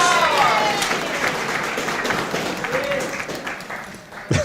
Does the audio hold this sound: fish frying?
no